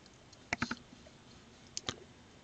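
Several sharp mouse clicks on a computer, a quick cluster of three followed after a pause by two more, close and crisp over a quiet room.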